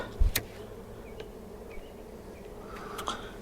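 Honey bees hum around an open beehive in a vineyard, a low steady drone with scattered close passes, a couple of sharp knocks near the start and a brief clatter toward the end.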